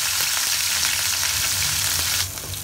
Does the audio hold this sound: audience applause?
no